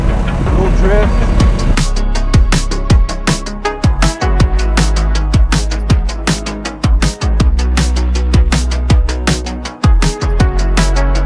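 Car engine revving and shifting down through gears on a drive in Greece, loud and close, with repeated sharp gear changes and engine pulses, while people talk over it.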